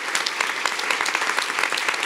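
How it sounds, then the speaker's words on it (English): A crowd applauds an award honoree at a business event, a dense, steady burst of many hands clapping together at close range. "so give her a big round of applause"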